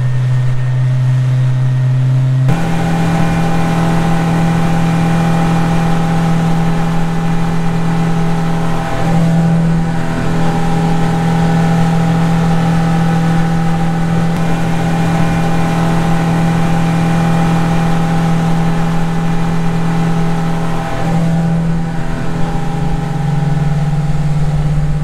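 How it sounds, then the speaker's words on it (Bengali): A speedboat engine on Patratu lake drones steadily and loudly with a sustained low hum throughout, rising in pitch slightly after the first couple of seconds and holding constant with no voices. "আমরা এখন জ্যাকেট পরে স্পিড বোটে বসে পড়েছি।"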